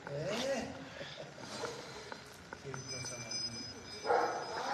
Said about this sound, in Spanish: Estos perros que en origen eran perros de rescate, los perros San Bernardo